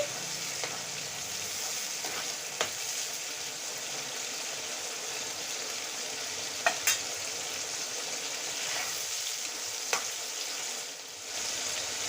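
Asafoetida frying in hot oil in a pan while making a green pea pickle, a steady close hiss and sizzle with a few small pops and clinks, no talk.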